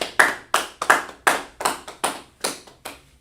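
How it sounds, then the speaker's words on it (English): Hands clap in a slow, steady rhythm, about ten sharp, close claps with short ringing decays between them. "Clap it up then."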